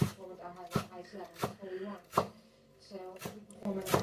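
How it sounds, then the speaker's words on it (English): Vegetables being chopped with a knife on a cutting board give sharp, regular knocks, near and loud, while a person talks between the cuts. "So chopping these up."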